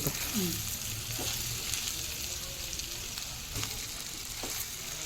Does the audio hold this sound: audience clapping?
no